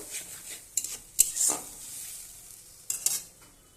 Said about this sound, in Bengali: এবার আমি ভালোভাবে কষিয়ে নেব।